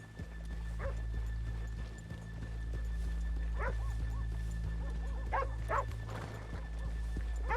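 Horses clip-clop along a town street in Red Dead Redemption 2, with hoof steps over a steady low ambient hum and a few sharper whinny-like or barking bursts in the background, no speech.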